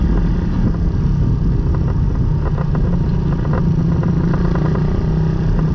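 A red Suzuki Raider 150 motorcycle fitted with a new 28mm carburetor rumbles steadily at close range. The engine note is a continuous, gritty drone with some mechanical clatter, and no one speaks.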